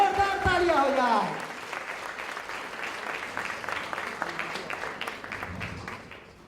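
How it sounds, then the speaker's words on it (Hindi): An audience at a yoga centre's annual programme breaks into sustained applause, a dense wash of clapping that follows a loud voice and continues steadily, slowly thinning out toward the end. "जोरदार तालियां हो जाए अपने आप के लिए, जोरदार तालियां हो जाए."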